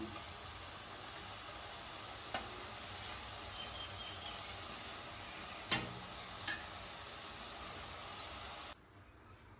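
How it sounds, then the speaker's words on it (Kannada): Chakli, a crispy spiral snack, frying in hot oil with a steady, close hiss of bubbling and sizzling broken by a few sharp pops and clicks, cutting off abruptly near the end. "ಈ ರೀತಿಯಾಗಿ ಒಂದೊಂದೇ ಚಕ್ಕಿ ನಾನು ಎಣ್ಣೆ ಬಿಡ್ತಾ ಇದ್ದೀನಿ"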